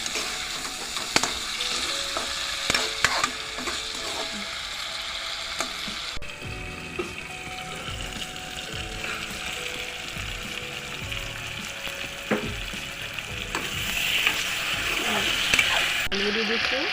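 Chicken pieces cooking in a pan with jackfruit seeds and potatoes, a continuous frying sizzle broken by spoon stirring and scraping, heard up close with a voice speaking now and then.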